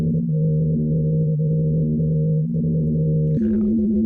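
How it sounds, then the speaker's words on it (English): Low, droning hum of ice in Antarctica picked up by seismic sensors, a steady layered tone that shifts pitch near the end, with a faint higher warble briefly rising over it. "After scientists installed seismic sensors in the ice to measure its behavior, they discovered a mysterious song."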